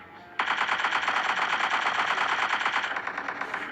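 Automatic gunfire in the mobile battle game Free Fire, a loud, rapid burst of shots starting abruptly after a short quiet moment and running continuously to the end.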